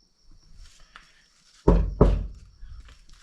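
Two solid, muffled knocks on an insulated Toyota Land Cruiser Troopy door in quick succession, close up, after a quiet stretch with faint rustling.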